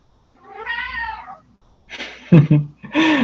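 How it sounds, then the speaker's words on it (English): A house cat meows close by: one drawn-out wavering meow, then a pause, followed by shorter, louder calls near the end, with no speech over them. "And my cat says hello."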